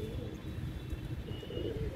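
A pigeon gives faint, low, continuous cooing that sits under steady background noise.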